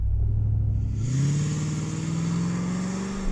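An old Range Rover held on a brake-boost launch, its engine droning loud and low, then accelerating hard off the line with a rising, steadily climbing roar.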